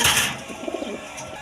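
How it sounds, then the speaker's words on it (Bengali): Indian Kal Dom high-flying pigeons give a few soft, low cooing notes in the middle of the clip, after a brief burst of hissy noise, fairly close and moderately quiet. "পনেরো দমের হাই ফ্লাইং কবুতর"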